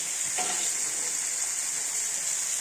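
Broad beans curry with added ingredients frying in a pan, giving a loud, unbroken sizzle, with one soft stir or drop near the start.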